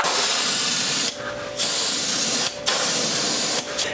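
An airbrush sprays bright yellow Testors paint onto a fishing lure body in three close, loud hissing bursts, with short pauses between them.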